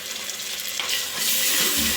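Ginger garlic paste frying in hot oil for tomato rice, a close crackling sizzle that swells louder in the second half.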